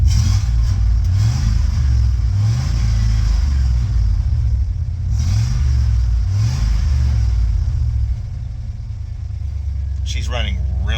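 An engine on a car being packed up for winter, running very rich, revs in repeated rising pulses over a steady idle rumble, loud and close, with someone talking over it.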